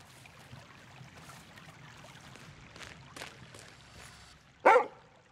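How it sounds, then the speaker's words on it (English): A ghost dog in the video game Lorelei and the Laser Eyes gives a single short, sharp bark near the end, cutting through quiet ambient game sound with no talk. "Is that a ghost dog?"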